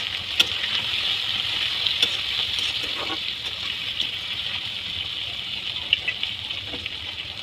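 Chopped tomatoes and green chilies sizzle in a hot frying pan with steady, close hissing and occasional pops and stirring clicks, with no voices.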